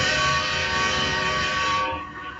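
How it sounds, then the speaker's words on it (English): A train rolls into a station with a sustained loud horn blast and rumbling wheels, fading slightly toward the end, no talk. "It's a gravy train rolling into the station."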